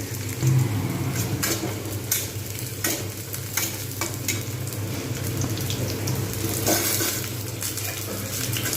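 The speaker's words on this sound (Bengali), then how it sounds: "আলু পেঁয়াজ একসঙ্গে আমি ভেজে নেব" Potatoes and onions fry together in a pan for a vegetarian curry, giving a steady, close sizzle with repeated stirring scrapes and occasional utensil knocks throughout, with no talking.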